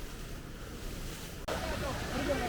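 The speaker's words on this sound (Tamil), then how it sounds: "இன்றைக்கும் பயங்கரமாக காற்று அடிக்க ஸ்டார்ட் ஆயிடுச்சு" Strong wind on a mountain trek at Kudremukh, in rainy weather, rushes and buffets against the microphone as a broad roar that surges louder halfway through.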